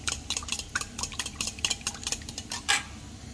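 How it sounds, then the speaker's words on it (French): A utensil stirs crème fraîche into a dish, making quick, irregular scraping and clinking taps against the pan or bowl, close and fairly crisp. "je rajoute de la crème fraîche. Je remue et je regarde la consistance."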